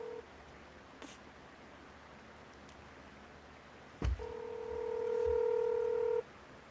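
A telephone call: a faint click, then a thump followed by a steady tone that gets louder and holds for about two seconds before cutting off, over a low hum.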